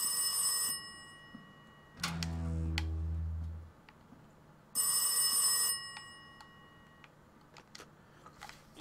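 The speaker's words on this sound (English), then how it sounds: "we'll answer that phone" A telephone rings in the horror video game Rise of Insanity, two loud, sustained electronic ring bursts separated by a pause, with a low droning tone between them and faint ticks afterward.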